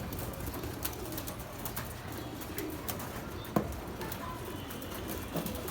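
Pigeons cooing around a home loft, low soft repeated coos against a steady background murmur, with occasional faint chirps and a brief flutter of wings, moderately distant and fairly quiet.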